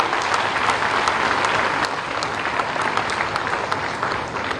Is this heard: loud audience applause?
yes